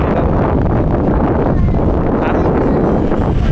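Strong wind on a hilltop buffets the microphone with a constant, loud, rumbling roar that holds steady throughout, with no voices.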